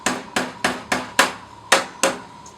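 A hammer gives seven light, evenly spaced taps, driving plastic rivets into a whole house fan during assembly, each a crisp close knock with no talk.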